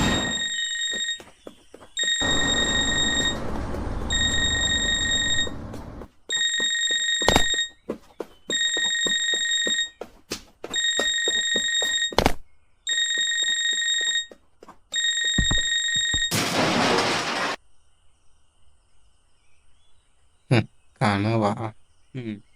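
An alarm clock rings in repeated bursts of shrill, steady electronic beeping, each lasting about a second with short gaps, loud and close, mixed with clatter and movement noises before it stops.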